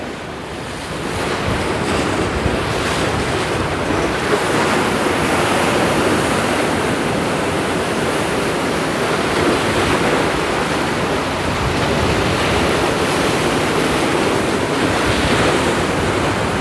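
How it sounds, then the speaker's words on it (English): Wind blows in over choppy ocean water at Haulover Inlet, a loud, dense roar of surf and gusts buffeting the microphone, continuous and unbroken throughout with no voices. "Right now we got a wind that's blowing in and water that's going out."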